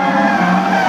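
Drift car tires squealing and skidding during a drift display by Team Falken at the International Motor Show 2013 in Luxembourg, a loud, steady screech with engine roar beneath.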